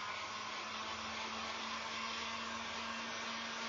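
A hair dryer blows steadily on an upcycled urn, a constant close whooshing hum with a faint motor tone and no talking.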